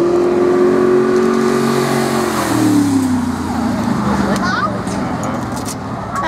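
A big V8 engine revs hard and loud close by, its deep roar swelling and then sliding lower as it pulls away, with people talking over it.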